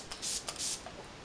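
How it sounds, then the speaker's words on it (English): Two short hissing bursts of makeup setting spray mist, close by, with a faint third puff, in an otherwise quiet room. "I'm going to spray her down with some Fix Plus"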